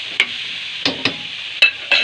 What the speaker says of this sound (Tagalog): Haluin. Paikot ang paikot para magkalasa siya.